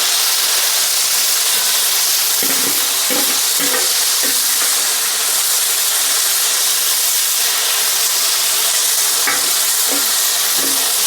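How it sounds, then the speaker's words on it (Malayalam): A loud, continuous sizzle of cauliflower deep-frying in hot oil, with occasional scrapes and clinks of a utensil stirring. "രണ്ട് പ്രാവശ്യം കൊണ്ട് നമുക്ക് വറുത്തെടുക്കാം"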